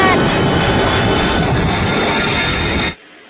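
A cartoon airplane flies overhead as a loud, steady, broad roar that holds for about three seconds and then cuts off abruptly to near silence.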